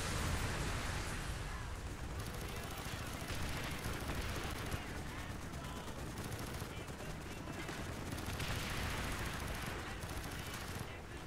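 Continuous gunfire and booming explosions from Call of Duty Black Ops run throughout, a dense, chaotic battle din of rattling machine-gun bursts and blasts at steady loudness.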